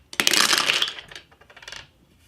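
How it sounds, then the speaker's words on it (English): Dice rolled onto a tabletop during a Dinosaur Table Battles board game session: a burst of hard clattering and tumbling that fades into a few lighter rattles as they settle, close and alone. "Don't take an action, they just roll the dice."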